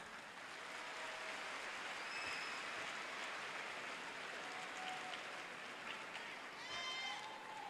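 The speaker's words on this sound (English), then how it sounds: "Would you please clap?" Applause from a large crowd at a spring college commencement, a soft, distant, continuous patter of clapping spread across a big space.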